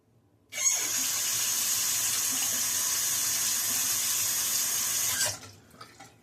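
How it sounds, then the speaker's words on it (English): A bathroom sink tap runs for about five seconds while a safety razor is rinsed, a steady, close hiss of flowing water that starts abruptly and stops with a short squeak, followed by faint drips. "I just rinse under the tap."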